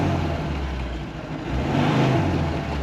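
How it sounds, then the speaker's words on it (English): A Soviet car's engine revs steadily and loudly up close, a low, rough drone that swells a little toward the end with no talk over it. "Listen to her rev."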